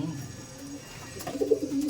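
Soft, low Madrasi pigeon coos near the end, a few murmuring calls over quiet background noise.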